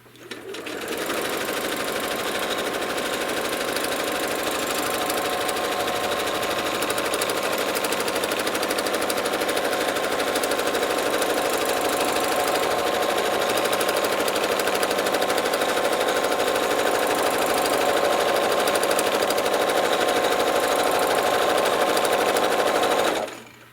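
A sewing machine runs continuously for over twenty seconds while quilting a spiral, giving a dense, steady, fast needle rattle at close range with no pauses.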